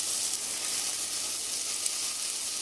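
Food sizzles steadily in butter in a pan over low heat while cooking corn cou cou, a continuous close, even frying hiss with no break.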